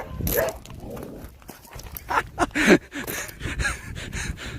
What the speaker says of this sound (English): dog's barking at Steve